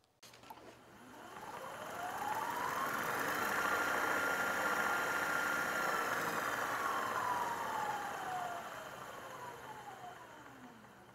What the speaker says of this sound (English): When the drive is disabled, the load is allowed to coast to a stop.